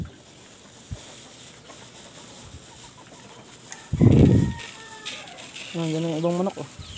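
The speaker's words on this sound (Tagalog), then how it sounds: "Nandiyan na yung ibang manok oh. Umuwi na." Chickens returning home to a rural yard give short clucking calls near the end, preceded by a brief loud rustle or thump and scattered light knocks over faint outdoor background.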